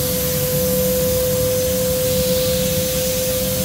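Air filter test stand forcing a strong flow of air through an S&B high performance air filter under heavy pressure, a steady loud rushing hiss with a constant whine, no pauses.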